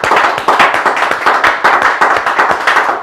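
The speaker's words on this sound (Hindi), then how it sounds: "जोरदार तालियां" A training-session audience bursts into loud, rhythmic clapping, sharp hand claps repeating steadily at close range for several seconds with no voices over them.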